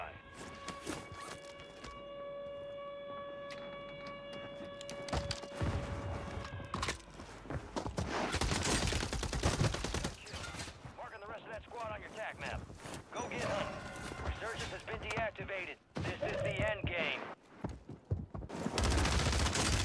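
Gunfire in the battle-royale video game Warzone on Rebirth Island, with dense bursts of rapid automatic shots and single cracks, interleaved with footsteps and game effects, while a player talks over the action.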